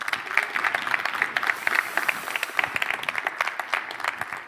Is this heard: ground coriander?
no